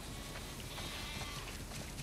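Sheep bleat faintly in The Last of Us Part II, a soft, hazy flock sound over steady background wash with no talking.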